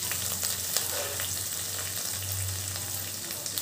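Sliced onion, green chili and garlic frying in oil in a pan, a steady close sizzle with a low hum underneath and no talking.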